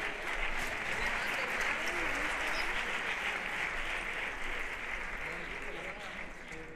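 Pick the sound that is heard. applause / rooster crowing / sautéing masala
applause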